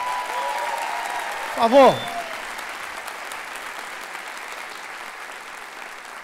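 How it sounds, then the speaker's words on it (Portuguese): Applause from a comedy talk show studio audience rises and rolls on steadily, with a voice briefly calling out over the clapping near the start. "Senhoras e senhores, muitos aplausos"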